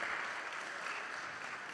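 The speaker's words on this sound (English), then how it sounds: "Clap it up one more time for Andreas." Steady applause from a church congregation at an Ethiopian Good Friday and Easter service, a soft even patter of many hands clapping throughout, heard from a distance without any voices.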